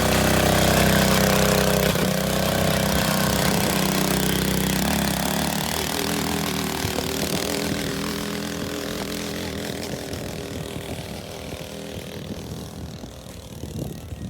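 A YCF 50A kids' motorbike engine drones steadily as it climbs a rocky hill, loud and close at first, then gradually fading and roughening as the bike moves away, with rattling clatter near the end.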